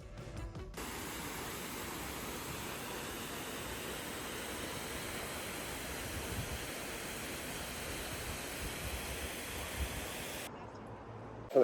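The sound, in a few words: Multnomah Falls waterfall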